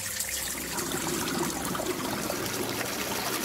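Water runs steadily through a pipe in the video game Doors: Paradox, a continuous close trickling flow with no talk over it.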